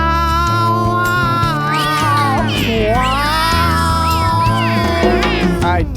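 At a Chuck E. Cheese animatronic stage show, a character's voice imitates a cat's meow several times in rising and falling cries over loud backing music.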